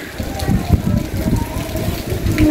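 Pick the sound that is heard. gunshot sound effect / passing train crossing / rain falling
rain falling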